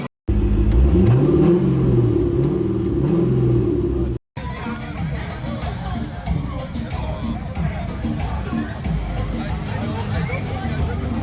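A Chevrolet Corvette C6 runs loudly and steadily close by, with a deep rumble and a low rising tone at first, then a dense continuous roar after a brief cut, with some voices faintly mixed in.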